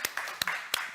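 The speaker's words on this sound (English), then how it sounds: "it's always a good time for applauding the panel" A conference audience applauds a panel of speakers: a short burst of scattered, fairly quiet hand claps with a few sharper individual claps.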